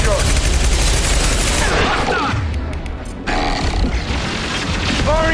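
Game gunfire in Mass Effect 2, an impact shot among dense rapid bursts and booms, loud and continuous with a short lull before the firing resumes, with some vocal sounds mixed in.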